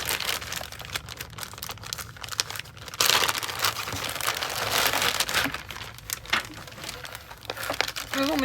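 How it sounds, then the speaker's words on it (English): A plastic bag crinkles and rustles as it is opened during a quilting subscription box unboxing, with bursts of loud crackling and tearing close by and a break partway through. "So we've got a plastic bag."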